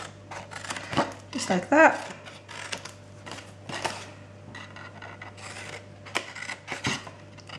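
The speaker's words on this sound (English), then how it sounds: "I'm just notching out each of those corner flaps now" Scissors snip notches into the corner flaps of a handmade papillon potpourri cardstock gift box: a few crisp, close cuts in quick succession, with a voice talking over them.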